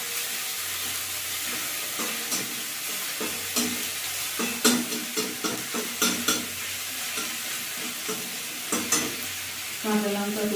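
Chopped garlic sizzling in a pan, a continuous hissing fry broken by repeated scraping stirs of a utensil, close and moderately loud, with a low steady hum underneath and no talking.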